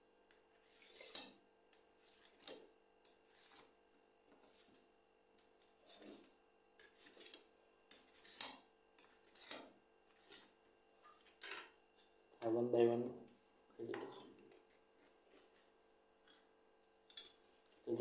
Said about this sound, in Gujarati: હવે હું આપણી ઢોકળીના પીસ કરીશ